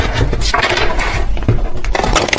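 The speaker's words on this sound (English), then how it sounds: "Let me see if I can actually shuffle this deck" Rapid, close riffling and flapping of a stiff tarot deck being shuffled, a dense busy clatter with no voices.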